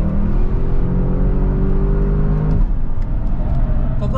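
An Audi RS wagon accelerates hard around the Fuji Speedway circuit, its loud, close engine rising in pitch, then dropping briefly at a gear change before climbing again, heard from inside the cabin with no talking.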